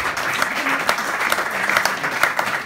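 Audience at a book presentation about Leonard Bernstein applauds steadily, a dense, even patter of clapping from a seated crowd with no talk over it.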